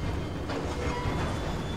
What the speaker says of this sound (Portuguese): Olha o trem passando.